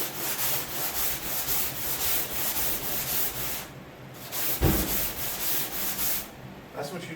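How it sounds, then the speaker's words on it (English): Steady, continuous sanding of a car hood during bodywork, a close, loud abrasive rubbing with rhythmic strokes that briefly dips twice before resuming. "I'm gonna sand some more."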